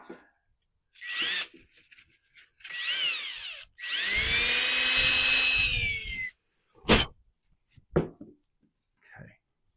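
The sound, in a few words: drilling through a rivet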